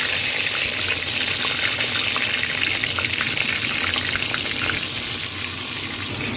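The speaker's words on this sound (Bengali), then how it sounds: "এইবার আমি এই বেগুনগুলো একে একে সব ভেজে নেব" Turmeric-coated eggplant slices frying in hot oil, a steady close crackling sizzle that runs on evenly without speech.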